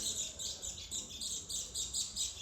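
Sparrows in a home tree after rain chirp in quick repeated bursts, a lively, rhythmic twittering of small birds heard fairly faintly from a short distance.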